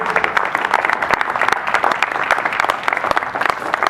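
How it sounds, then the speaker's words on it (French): Dense audience applause fills a building inauguration ceremony, a steady wash of many hands clapping with some cheering, loud and continuous throughout with no pauses. "sous les acclamations frénétiques de l'assistance"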